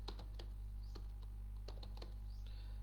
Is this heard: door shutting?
no